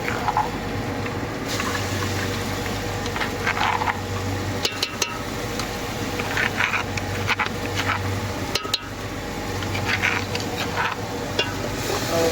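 Masala spices frying with onions in a pan for a shrimp curry, a constant loud sizzle with occasional stirring scrapes and clinks of a utensil against the pan.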